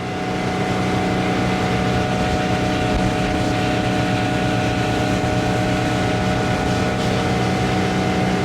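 A 1973 Cobalt motorboat engine roars steadily at about 36 mph, a loud continuous drone with churning water and wind noise throughout.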